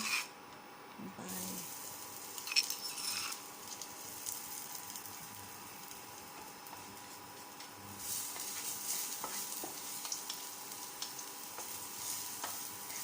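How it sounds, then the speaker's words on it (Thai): Crushed garlic sizzles in a modest amount of hot frying oil, a steady close hiss that swells in a couple of places, with occasional light scraping of a utensil against the pan. "ใส่น้ำมันไม่ต้องเยอะนะคะ เราก็ใส่กระเทียมที่เราบุกไว้นะคะ"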